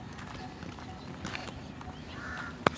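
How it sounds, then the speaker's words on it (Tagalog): A crow gives a faint, brief caw at a beach resort in Morong, Bataan, heard once against soft outdoor background noise just before a sharp knock at the end. "May uwak mga kaibigan"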